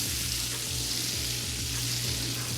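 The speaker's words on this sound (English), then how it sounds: "First, I'm going to brown the butter." Butter browning in a pan inside a van gives a continuous, even hissing sizzle. It runs over a low, rhythmically pulsing hum, with no voices.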